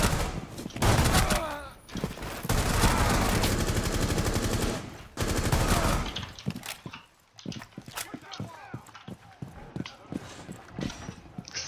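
Gunfire in the tactical shooter Rainbow Six Siege: dense, loud automatic bursts at first, giving way to scattered sharp single shots and clatter, with a voice talking over parts of it.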